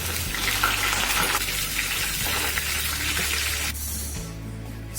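Fennel seeds and curry leaves sizzling in hot oil for tempering rice kichadi, a loud continuous hiss that eases slightly near the end.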